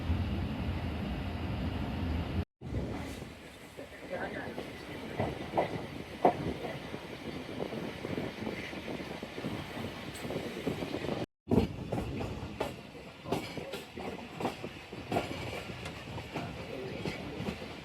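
The Tezgam Express passenger train pulling out of a station, a continuous rumbling ride with rhythmic wheel clicks over rail joints and occasional faint squeals, fairly close and steady throughout.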